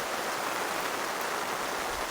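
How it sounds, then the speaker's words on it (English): Heavy rain pelts down on a tent at a rainy campsite, producing a constant dense hiss of drops with no let-up, steady and fairly close. "It hasn't stopped raining."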